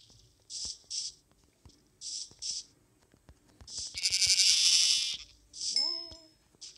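Blocky video-game sheep give several short bleats and one longer, louder bleat, mixed with soft clicking and a rising chime-like effect, with a player's voice at moments.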